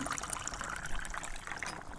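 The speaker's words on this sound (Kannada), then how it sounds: "ಮಿಕ್ಸಿ ತೊಳೆದ ನೀರನ್ನು ಕೂಡ ಹಾಕ್ತಾ ಇದ್ದೇನೆ" Water used to rinse a mixer grinder poured into a ridge gourd and amaranth curry, a faint, continuous splashing trickle lasting a couple of seconds.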